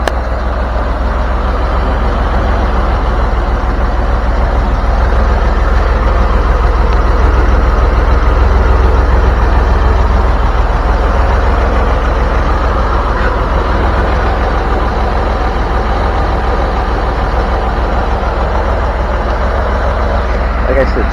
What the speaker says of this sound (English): So the engine's running pretty smooth actually